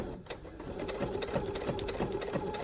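A sewing machine stitches a homemade pen holder with a steady, rapid, rhythmic whirr. The sound is close and continuous, and no voices are heard.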